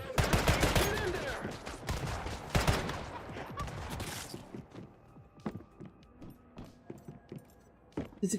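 Rapid gunfire from a firearm in the survival shooter Once Human, a loud burst of shots at the start that thins to scattered clicks and footsteps.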